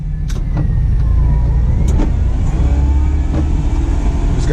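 A standard shift truck plowing snow at a BBQ spot runs close by with a loud, steady engine drone, a few clunks and brief rising notes as it changes gears.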